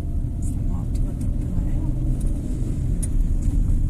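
A car accelerates uphill during a driving lesson, its engine a steady low rumble close by that builds slightly, with an instructor talking over it.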